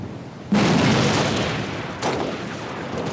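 Heavy gunfire erupts suddenly in Halo: Reach, a loud, dense sustained barrage that keeps up to the end, with a second burst swelling in partway through.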